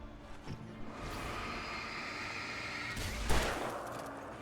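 Gunfire in the video game Alan Wake, muffled shots and rumbling impacts over a dense, noisy background, with a sharper burst near the end.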